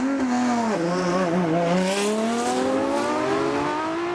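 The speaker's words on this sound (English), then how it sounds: "Andrew Willis in the wailing V12 French sports car, the Matra and Le Mans winner, coming through the first two turns and howling under the bridge" A Matra V12 French sports car, a Le Mans winner, howls loudly at a hillclimb, its high wailing note dipping briefly then climbing steadily as it accelerates through the turns.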